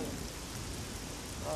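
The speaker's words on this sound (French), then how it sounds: "merde il pleut." Steady, dense rain falls in the game Oblivion, a continuous hiss of drops on surfaces, close and even throughout with no voices.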